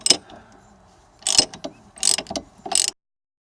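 A ratchet turns a nut off a strut bolt on a 2005 Dodge Caravan during a strut and shock replacement, loud and close, in a short click followed by three ratcheting bursts, then silence.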